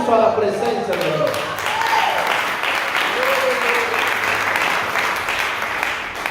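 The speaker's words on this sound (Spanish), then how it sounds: "Un aplauso a la presencia de Dios." Sustained applause fills a church service, with dense clapping under a voice speaking and crowd cheers rising over it.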